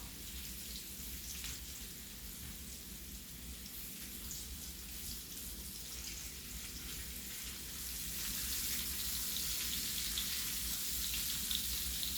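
Onions frying in a pan while fried snapper and French fries are being made for lunch, giving a steady close sizzle and crackle that grows louder toward the end, with no talk over it.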